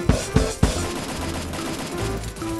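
Three sharp gunshots crack out close and loud in the Free Fire battle game, spaced about a quarter second apart, followed by a low droning in-game hum with no voices.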